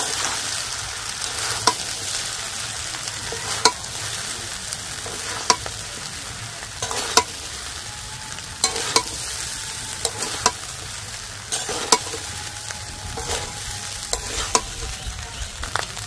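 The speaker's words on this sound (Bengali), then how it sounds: "এবারে আলতো হাতে আস্তে আস্তে করে নেড়ে নেব" Chicken fried rice sizzles steadily in a hot pan while a spatula gently turns it, its scraping taps recurring every second or two over the continuous frying hiss, with no talking.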